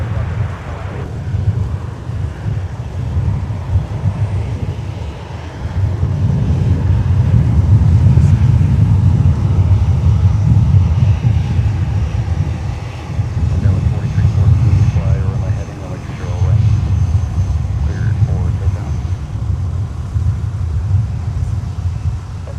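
Low roar of Sun Country airliner engines at MSP airport in winter, a loud continuous rumble that swells and eases over about twenty seconds, with wind noise on the microphone.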